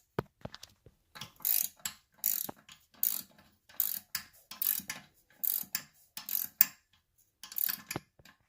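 Ratchet with a 7/16 socket tightening the bolts on a toilet while replacing its wax ring; quiet, close, crisp clicking in short back-and-forth strokes, a dozen or so bursts with brief gaps between them.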